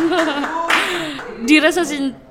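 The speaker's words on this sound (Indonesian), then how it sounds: "Oke, tepuk tangan." Short bursts of clapping from a small group during an Indonesian podcast with a high-school nature club leader, mixed with talking and light laughter.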